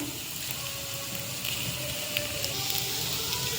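Onion and tomato frying in a pan for pav bhaji, giving a steady, close hiss and crackle of sizzling with faint pops throughout and no talk.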